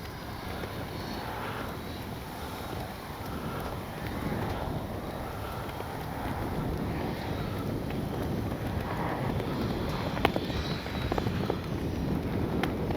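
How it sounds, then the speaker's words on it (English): Steady, rumbling wind buffeting the microphone, with a faint drone underneath from a Freewing 70mm Me 262 RC jet, and no talking. "Oh boy, windy."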